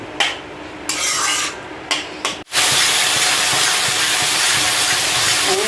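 Pabda fish curry with salt is stirred and sautéed in a pan in a village kitchen: a few loud scraping stirs break off in bursts, then a steady, close sizzling hiss takes over.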